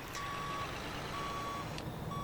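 A truck backs up in the Grand Truck Simulator mobile game, its reversing alarm giving three evenly spaced electronic beeps over a quiet, low engine hum.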